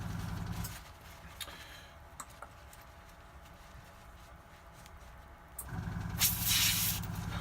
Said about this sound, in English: This is going to be a pretty clean airbrush to just run straight onto the next colour.